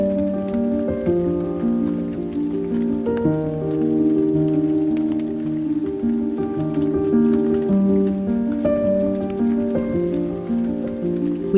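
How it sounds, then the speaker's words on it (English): Heavy rain pours steadily during a summer thunderstorm in northern Sweden, a constant loud wash with no speech over it. "We had a big storm this week, with thunder and heavy rain."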